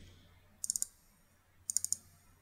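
Two quick mouse double-clicks on a computer, each a tight pair of sharp clicks, close and crisp over faint room hum with a pause between them.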